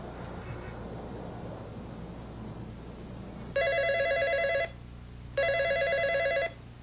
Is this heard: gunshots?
no